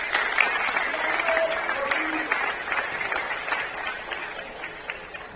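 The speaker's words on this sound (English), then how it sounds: "so big applause also for them" Applause for the tournament team at the Dutch Junior Open squash championships in Amsterdam, a broad wash of clapping from a sizeable crowd in a hall, steady and moderately loud, gradually tapering, with faint murmurs mixed in.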